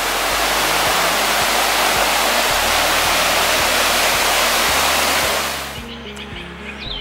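Whitewater rapids at Greenbrier Campground near Gatlinburg, Tennessee roar as a loud, dense broadband rush that fills the scene, then drops off sharply near the end to a quieter steady wash, with no voices.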